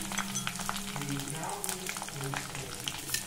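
Round red chillies and green chillies sizzle in hot oil for rasam, a steady crackling fry with scattered pops and stirring, heard close up.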